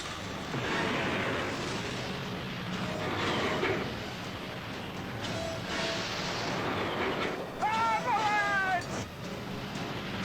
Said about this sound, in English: Train! Hurry!